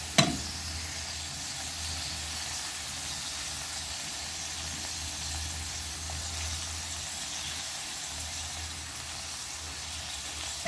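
Cut tomato, onion and green chilli drop into a hot frying pan for a baby jackfruit curry, bringing a brief clatter and then a steady, even sizzle that carries on alone until the end.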